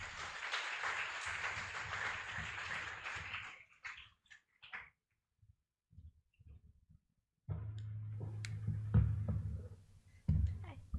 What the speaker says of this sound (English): Everyone, kindly give Attorney Chua a warm round of applause.